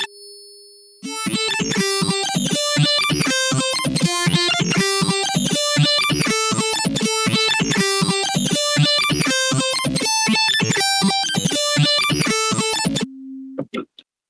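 A synthesizer patch with LFO-modulated wavetable and octave layers plays a dense, busy pulsing pattern with rapidly shifting tones, loud and continuous for about twelve seconds before cutting off, followed by a brief tone.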